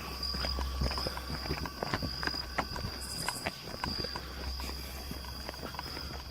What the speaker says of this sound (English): Dude, I hear somebody walking, and it's not our freaking footsteps.